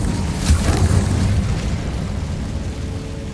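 A fiery Incendio spell blast erupts in Hogwarts Legacy, a sharp broadband burst of flame that swells into a rumbling roar and then settles into a sustained low, crackling burn with no talk over it.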